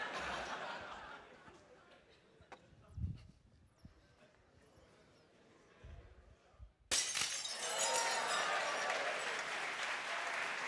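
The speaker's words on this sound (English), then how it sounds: "Students love it when the glass breaks." Glass shatters in a university physics lecture demonstration, a sudden loud burst followed by a sustained crash and clatter of fragments, with the hall noise of a large audience audible before it.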